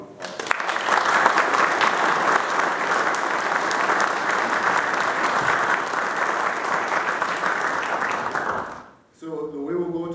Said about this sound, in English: You just give them a round of applause.